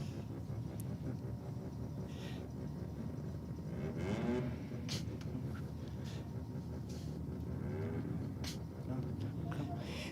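A rotary-engined race car on track, its whirring, buzzing engine note rising and falling with revs beneath steady talking from the driver.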